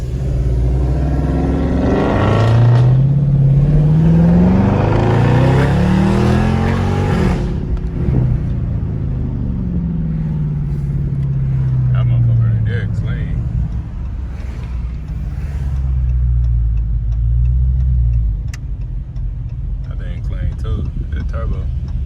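A 2021 Dodge Charger 392 Scat Pack with a muffler delete revs loudly nearby, its V8 swelling and falling in repeated pulls with deep rumble, while wind buffets the microphone and people talk over it.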